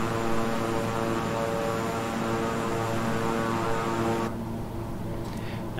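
Twin-engine King Air 350i propeller engines in Microsoft Flight Simulator, a steady droning hum that drops in intensity as the throttle comes back.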